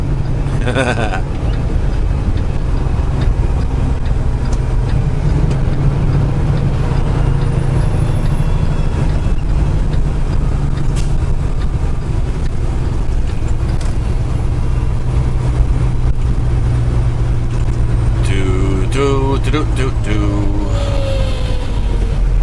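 A big truck on an Oklahoma highway gives a constant heavy, low engine rumble, heard close and loud for the whole stretch. Brief squealing, brake-like tones rise near the end.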